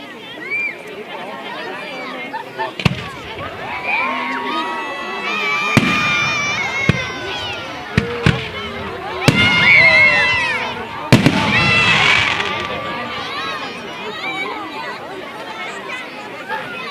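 Sharp firework bangs and crackles go off at irregular intervals over a crowd's excited chatter and shouting outdoors at a January 6 Epiphany bonfire festival in Cartura, Italy.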